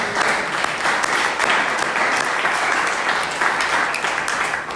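A church congregation applauds in acclaim of the Lord, a dense, steady burst of clapping from many hands, loud and continuous throughout.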